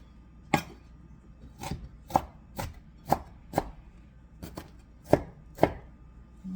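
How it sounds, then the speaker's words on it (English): A knife chops vegetables for a beef, barley and mushroom stew on a cutting board, with about ten distinct thuds at an uneven pace, close and clear. "Okay, that's chopped enough."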